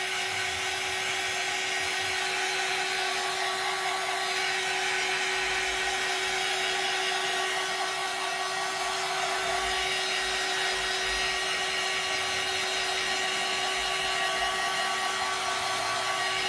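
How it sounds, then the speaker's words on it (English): A hair dryer's steady, loud blowing roar with a constant high whine holds without a break for the whole stretch, with no voices over it. "let me hit this with the dryer"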